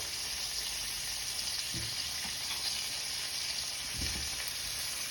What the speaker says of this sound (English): You just want the garlic and the butter to foam up a little bit.